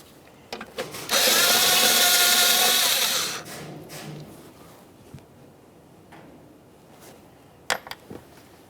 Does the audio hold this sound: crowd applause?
no